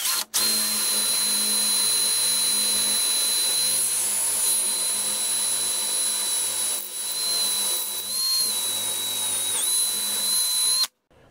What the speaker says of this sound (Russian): Поставил я сверло восьмерку, буду сверлить насквозь.